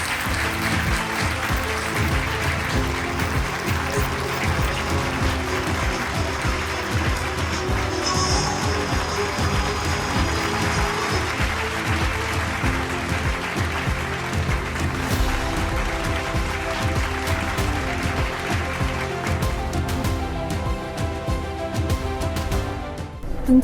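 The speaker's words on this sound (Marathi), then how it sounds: "टाळ्यांचा आवाज." Sustained audience applause at an award presentation ceremony, steady and dense clapping from a crowd that holds at an even level throughout with no break.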